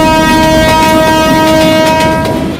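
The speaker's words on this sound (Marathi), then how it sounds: "मुंबईकरांच्या रोजच्या प्रवासातली जीवश्च कंठस्थ मैत्रीण म्हणजे लोकल ट्रेन" A Mumbai local train rolls past loudly, with steady rumbling and a sustained horn-like tone running throughout, fading slightly at the end.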